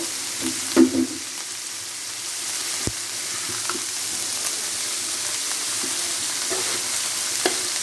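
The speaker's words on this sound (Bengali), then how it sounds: "লবণ দিয়ে একটু নাড়া দিয়ে ঢেকে দিব" Cabbage curry sizzling in a pan after salt goes in, with a steady frying hiss throughout and a few soft scrapes and clinks of stirring near the start.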